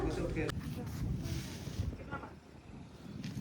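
A breeze blows steadily outdoors in Dehradun, rumbling across the microphone with low gusty buffeting and a soft hiss that rises and falls for a few seconds.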